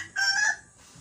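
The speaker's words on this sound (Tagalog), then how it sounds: "At itong manok" A short, loud rooster crow rings out close by, a single strained call lasting about half a second before fading into quiet.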